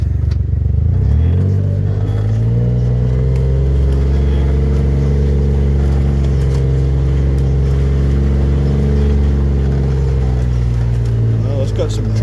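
A four-wheel-drive vehicle's engine drones steadily and loudly as it climbs a logging road in moose country, its pitch rising briefly at the start and holding a low, continuous hum throughout.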